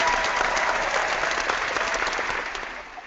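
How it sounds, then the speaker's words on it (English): A crowd gives sustained applause, a dense wash of many hands clapping that stays steady and then starts to fade toward the end, with no voices on top. "So we're going to give them a hand clap."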